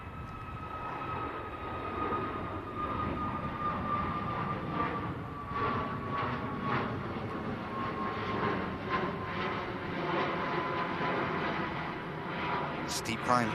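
Airliner engines at Manchester Airport roar steadily in a steep climb after takeoff, a sustained jet rumble with a slowly falling whine, moderately distant, under a voice talking over it.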